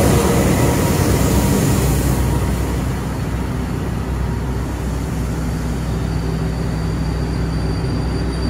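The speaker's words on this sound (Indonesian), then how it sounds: "Ini dia kereta Gajayana menuju ke Jakarta dengan rangkaian stainless steel generasi" Gajayana long-distance passenger train with a stainless steel carriage set passing on the Malang route, a loud rumbling roar with steady wheel and engine drone that eases slightly after the first couple of seconds, no talk.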